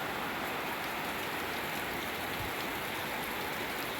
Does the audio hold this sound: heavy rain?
yes